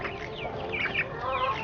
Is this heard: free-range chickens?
yes